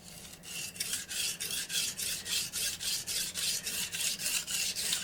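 A knife is stroked back and forth across a coarse Shapton 120 whetstone in a steady, even rhythm of about a dozen gritty rasps, close up and alone.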